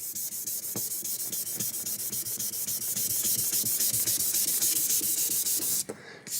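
Cured lacquer finish sanded with fine grit paper up to about 3000, a close, continuous loud rubbing hiss with rhythmic strokes that ends in a brief pause.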